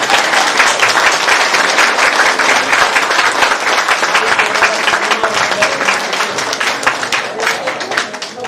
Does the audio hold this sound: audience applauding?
yes